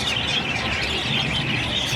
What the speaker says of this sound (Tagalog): Kaya napakagandang ibon nito.